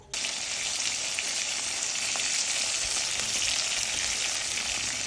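Fish and eggplant fry in hot mustard oil, a loud, continuous crackling sizzle that starts suddenly and holds steady throughout, with no talking.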